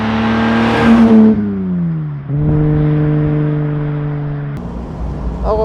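A 1953 Aston Martin DB2 Vantage Drophead Coupé engine revving hard, rising to a loud peak and then falling away, followed by a steady sustained drone and a sharp click near the end.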